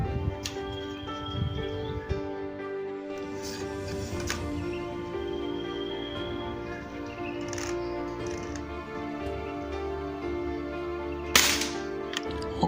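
An air rifle with a Polymax SE barrel fires a few sharp cracks, one louder shot near the end standing out over a steady outdoor background hum, with no talking.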